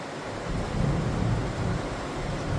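Steady rain pours onto a house roof, a dense continuous hiss with a low rumbling undertone that stays even and fairly loud throughout, with no voices.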